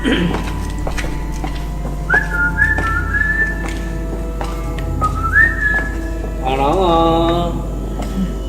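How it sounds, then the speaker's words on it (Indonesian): Someone whistles a few short rising notes over a steady low hum, then a longer warbling whistle near the end; faint voices murmur in the background. "Dia sompral bersiul kayak gitu ya."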